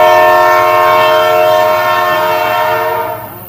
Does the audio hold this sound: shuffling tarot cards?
no